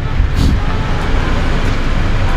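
A parked car's engine idles, left running after a rainy drive, a steady low rumble that fills the whole stretch at close range with no break.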